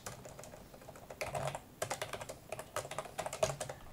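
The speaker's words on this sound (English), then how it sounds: "I'm going to get lazy in my typing here" Typing on a computer keyboard, a close, quick irregular patter of key clicks in short bursts, with no talking.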